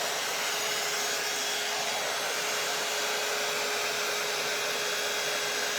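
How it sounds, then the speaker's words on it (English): A handheld blow dryer runs steadily and loudly throughout while drying hair, a constant broadband whoosh with a steady motor whine and no pauses or talking. "So you could use the blow dryer and dry your hair"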